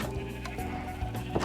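Sheep in a Minecraft farm bleat in short, close, wavering calls, one after another, with no talk over them.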